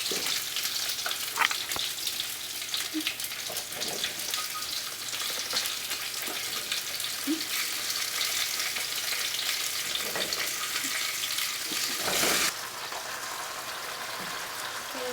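Tofu stir-fry sizzles loudly in a pan, a continuous crackling fry with occasional scrapes and knocks as it is stirred, plus a brief louder burst near the end, and no talking.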